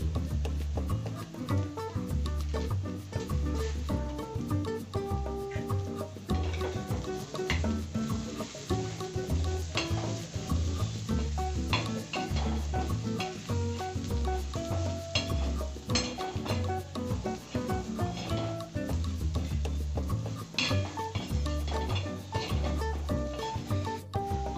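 Malvani masala sautés in a pan while a utensil stirs it, giving a steady sizzle with frequent scraping and light clinks that carry on throughout at an even level.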